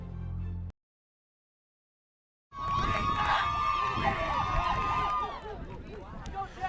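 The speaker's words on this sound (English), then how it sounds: "you hear the Bowman County fans clapping and cheering there, cheering on their team" Bowman County fans cheer and clap at a high school basketball game: after a short silence, a loud gym crowd roar rises, with a sustained whistle-like tone riding over it for a few seconds.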